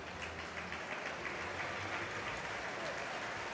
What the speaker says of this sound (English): a very comforting round of applause from the crowd here, welcoming MATSUYAMA back